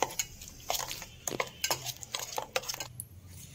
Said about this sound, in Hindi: मैं तो चम्मच से कर रहा हूँ फिलहाल के लिए